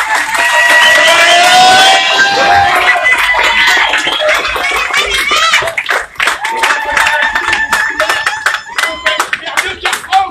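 Crowd at a union support rally for a bus driver clapping and cheering, a dense burst of applause with voices mixed in, staying loud throughout and thinning slightly toward the end.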